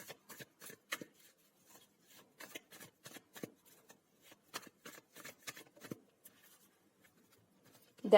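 Tarot cards shuffled and drawn by hand in a quiet room, a run of soft, crisp riffling flicks in quick irregular bursts, close and faint, with no talk.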